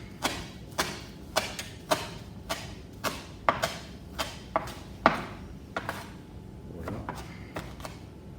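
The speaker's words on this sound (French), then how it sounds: "Donc là, on parle de ciseler la ciboulette pendant la cuisson des œufs." Knife chopping chives finely on a cutting board, a steady series of about fourteen crisp close thuds spaced roughly half a second apart, with no voices.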